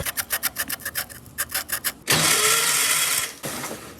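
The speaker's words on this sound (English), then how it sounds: "We're just lifting that up and putting the sandpaper in between those in there." Sandpaper rubbed between the ignition points of a VW Beetle engine, a quick rhythmic series of short scratchy strokes, then a long continuous rasping rub, a brief pause and another.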